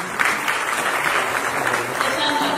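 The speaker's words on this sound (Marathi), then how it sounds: "एकदा जोरदार टाळ्या त्याची." Audience applause at a Marathi film music and trailer launch event, a steady burst of clapping from a crowd filling the room, loud and continuous throughout.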